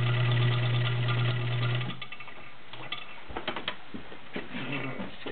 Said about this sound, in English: It's a quiet machine, just serviced and ready to go.